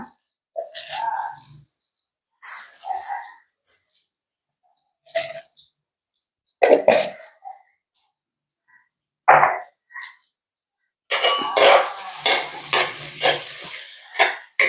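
Fennel seeds frying in oil: several short clattering stirs and scrapes separated by silences, then a dense, loud crackling sizzle over the last few seconds.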